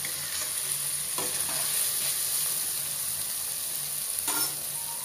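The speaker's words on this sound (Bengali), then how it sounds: "আমি এর মধ্যে আরো 2বার লাড়া দিয়ে দিচ্ছি" A winter vegetable bhaji hisses and sizzles steadily in a pan while a spoon gives a few distinct scraping strokes through it, close and moderately loud.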